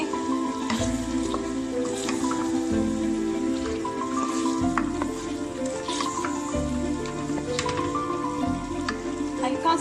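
Chicken and potato pieces fry in masala in a pan, giving a continuous soft sizzle and crackle under background music.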